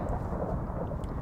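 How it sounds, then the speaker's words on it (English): Anvils falling and landing in a Minecraft Mineplex minigame, heard as a dense, continuous low rumble of heavy impacts with no speech. "It's raining anvils."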